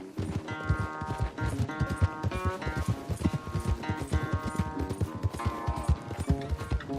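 In Red Dead Redemption 2, a horse gallops during a race, hooves pounding in a fast, steady clip-clop rhythm over a musical score, up close and continuous.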